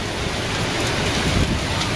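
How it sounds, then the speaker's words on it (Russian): Dense, steady roar of heavy rain and gusting wind from Hurricane Irma at a house in the USA, broadband and continuous, with no voices. "Такой ветер. Ветер, дождь."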